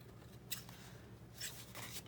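Scissors trimming fabric scraps for fall journal cards, giving a few quiet, brief snips spaced apart over a low room hum.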